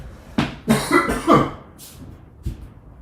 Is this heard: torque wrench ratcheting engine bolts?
no